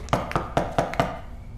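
Five sharp knocks on a door in a quick, slightly uneven rhythm, close and fairly loud, with no voices.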